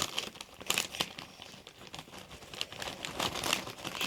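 Crinkling and tearing of a Doritos chip bag being opened, close and fairly quiet, a steady run of crackling plastic with a few sharper crumples and no talk.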